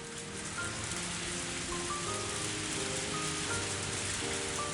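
Heavy rain pours steadily in Higurashi: When They Cry, a dense, unbroken hiss of drops striking surfaces, loud and even throughout with faint tonal game music underneath.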